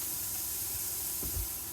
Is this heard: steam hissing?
yes